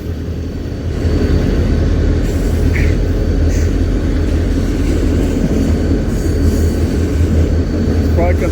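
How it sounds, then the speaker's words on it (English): Steady, close rumble of a train passing a railroad crossing at Slover Ave. in Colton, California, rising after the first second and holding loud and continuous to the end. "It stopped to wait for that train."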